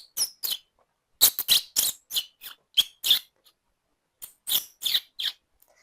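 A seventh-grade boy mimics pet lovebirds with his voice, producing a series of sharp, high squeaky chirps in quick bursts, with a short pause midway before another cluster of loud, close chirps.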